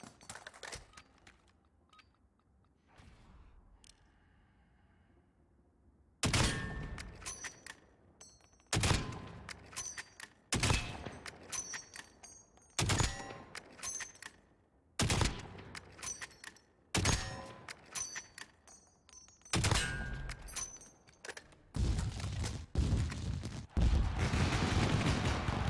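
Loud, sharp rifle shots fired one after another in Call of Duty Modern Warfare, a marksman rifle with a seven-round magazine, each crack followed by mechanical clatter, after a quieter opening stretch of game ambience.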